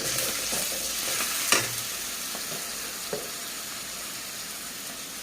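Garlic paste fries in oil with onions and green chillies under a constant loud sizzle, with a couple of faint clinks from the utensil and no voices.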